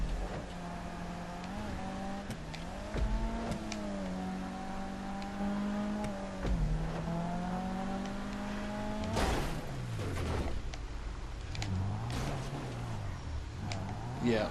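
Car engine humming and revving steadily while driving in GTA 5, with pitch rising and falling through gear changes and a louder burst of revving near the end; a voice talks over it throughout.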